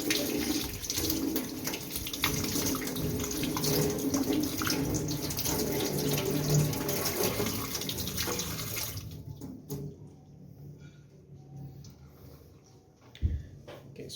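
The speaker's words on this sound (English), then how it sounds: "you're gonna rinse it with clean water" A celery stalk rinsed under a running kitchen tap, with a steady splashing stream of water that stops partway through, leaving faint drips and a single soft knock.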